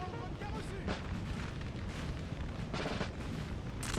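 Napoleonic horse artillery firing during a Napoleon Total War 3 battle: muffled, distant cannon booms and pops scattered under a quiet, steady battlefield din, with a voice speaking over them.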